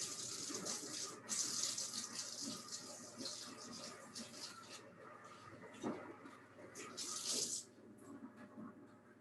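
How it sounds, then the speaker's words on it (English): A kitchen tap runs while hands are washed beneath it, the water splashing in uneven bursts and surges, fairly close and moderately loud, with no talking. "I'm going to go wash my hands before I touch anything else"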